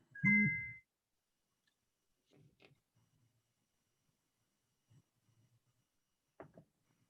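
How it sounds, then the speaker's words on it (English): A phone gives one short, bright notification ding at the start, followed by near silence with a few faint scattered sounds. "I heard my phone ding"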